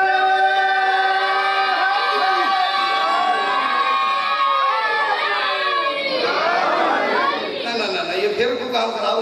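A crowd at a Muharram religious gathering shouts a slogan together, loud sustained voices rising and falling in unison for several seconds before tailing off.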